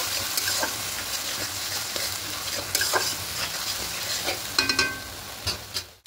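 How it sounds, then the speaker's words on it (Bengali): A spice paste of Kashmiri chili powder, tomato, ginger, green chili and cumin sizzles steadily in a pan while a spoon scrapes and stirs through it in occasional bursts, with no talking. "এবার দিয়ে খুব ভালো করে মশলাটাকে একটু কষিয়ে নেব"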